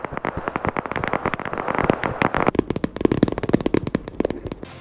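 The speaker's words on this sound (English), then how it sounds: "Sometimes the ambient firefight noises sound like an ASMR tapping video rather than a gunfight." Ambient firefight gunfire in the video game Operation Harsh Doorstop: dense, rapid crackling shots in overlapping bursts, close and steady, with a light tapping quality and no talking.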